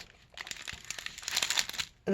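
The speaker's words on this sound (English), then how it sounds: "I'm sorry for the sound, it's my floor cracking" Floor cracking and creaking during a diamond painting kit unboxing, a run of dry crinkly crackles building over about two seconds, fairly close and moderate in level, then a sudden louder burst at the very end.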